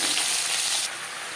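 Pumpkin pieces and vegetable stalks dropped into hot oil already frying panch phoron and bay leaf, a loud bright sizzle that eases slightly partway through, heard alone.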